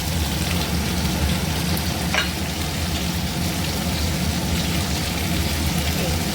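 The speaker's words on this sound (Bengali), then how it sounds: "ওখানে আলুটা ভাজা হচ্ছে" Potatoes frying in oil in a pan, a dense, steady sizzle that stays close and loud throughout, with one faint scrape partway through.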